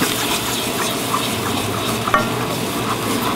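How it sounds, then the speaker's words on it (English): Hot milk is stirred a little at a time into a flour roux for lasagna, with the heat off, giving a close, constant soft sizzle and wet stirring, a couple of faint clicks, and no talking. "We're going to start adding hot milk at about 2 tablespoons at a time."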